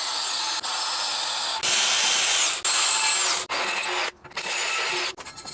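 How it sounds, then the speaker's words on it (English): A power drill bores pilot holes in a plate for a spare tire carrier mod: several loud, whirring bursts of several seconds each, separated by brief pauses as the trigger is released. "Start this over again with a couple of pilot holes."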